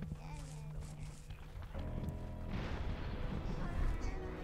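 An explosion in the video game Overlord: Raising Hell, a deep rumbling boom that swells midway and lingers, heavy and close, with a voice talking earlier.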